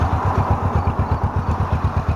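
A Suzuki GS500F motorcycle engine idles close by with a loud, steady, even putter of regular pulses.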